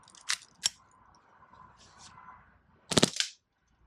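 An HPA-tapped airsoft pistol fires a couple of sharp snapping shots, then a quick close burst of cracks on full auto near the end, separated by a quiet stretch.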